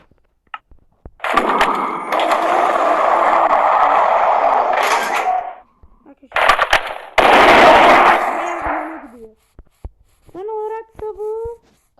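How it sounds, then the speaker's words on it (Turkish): Gunfire from a shotgun in a Minecraft gun mod, loud and close, in long sustained bursts separated by pauses, followed by a few short tonal game sounds at the end. "Çok güçlü bir pompalı."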